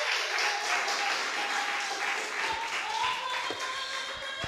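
A church congregation applauds at an evening doctrine service, a steady wash of clapping from many hands held at an even level throughout, with a faint sustained tone lingering over it.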